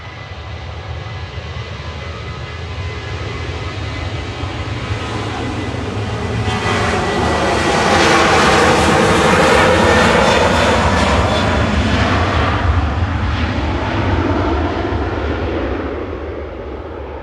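A Ryanair jet airliner departs Manchester Airport bound for Seville, its engine roar swelling to a loud peak midway and holding steady before easing off, with a sweeping comb-like pass and no voices.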